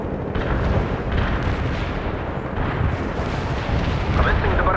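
World in Conflict artillery strike: a heavy, unbroken rumble of shelling and explosions, loud and near, with talk heard over the din.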